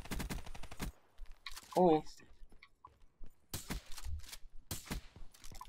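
Rapid bursts of gunfire from a gun game video game, several sharp volleys separated by gaps, with a player's short exclamation between them.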